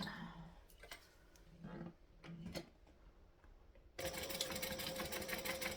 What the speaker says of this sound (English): I can now take this and sew it on